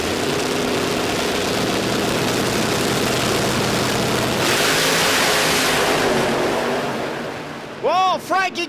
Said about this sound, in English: That's some pro mod action for you right there, folks, in qualifying.